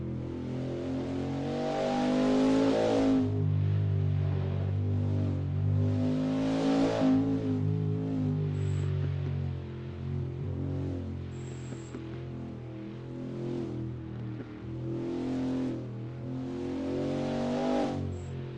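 Engine of a race car in a Le Mans racing video game, a vintage WSC60 sports car lapping through Porsche Curves and Maison Blanche, drones steadily with rising and falling revs over about eighteen seconds, loud and continuous.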